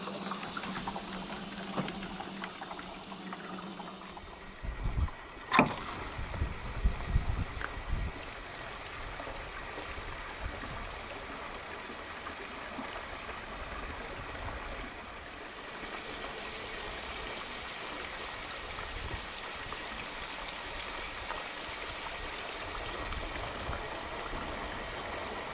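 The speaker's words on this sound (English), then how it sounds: "This thing up here has a built-in tank sprayer." Water sprays steadily inside a Camco Rhino plastic sewer tote tank from its built-in tank sprayer, a continuous rushing wash with a few knocks and clunks early on, then an even, moderately loud flow.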